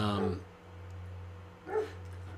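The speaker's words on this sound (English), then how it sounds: "There's a dog in the background." A dog barks twice in the background of an indoor podcast recording, one short bark near the start and another about a second and a half later, both fairly faint over a steady low electrical hum.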